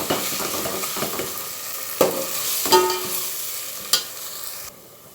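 Ginger garlic paste frying in a pan for chicken dum biryani, a steady soft sizzle with a few sharp spoon scrapes and clinks against the pan, close by, with no talk.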